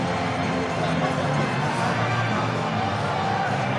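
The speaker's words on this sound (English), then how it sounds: "The crowd coming into play here" A Hawkes Bay rugby crowd in an ITM Cup 2015 match against Waikato keeps up a steady roar of cheering, with a faint voice talking over it.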